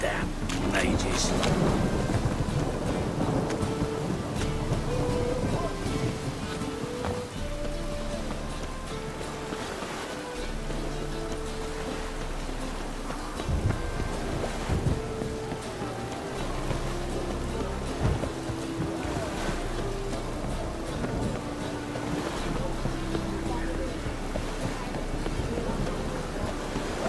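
Rain and rolling thunder in The Witcher 3 game: a steady, dense rainfall hiss with deep low rumbles throughout, a few sharper thunder swells, and soft background music.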